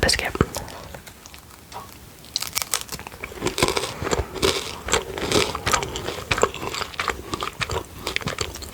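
Close crunching and chewing of a golden crunch cream biscuit, with crisp bites building after a quiet start and continuing steadily, mixed with soft whispering.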